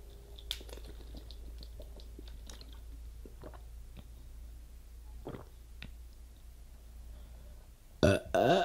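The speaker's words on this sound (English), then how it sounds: "Let's see if we can get you guys some lovely burping sounds." A person burping, one short, forced belch at the very end after a long quiet stretch of small mouth clicks and swallowing noises.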